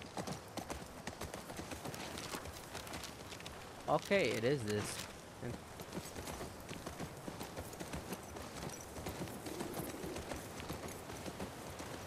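Horse hooves clip-clopping in The Last of Us Part II video game, a soft steady walking rhythm under game ambience, with a person talking over it.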